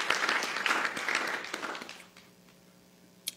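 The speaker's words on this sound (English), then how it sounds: "Give them a round of applause." An audience at an NIH honors ceremony claps for about two seconds, then the applause fades out into near silence, with one last isolated clap near the end.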